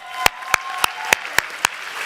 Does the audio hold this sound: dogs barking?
no